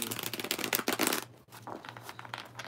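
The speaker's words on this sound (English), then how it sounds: "As I shuffle the cards." Tarot cards are shuffled up close in dense papery riffles and slaps, busy for about a second, then a brief pause before softer, scattered shuffling resumes.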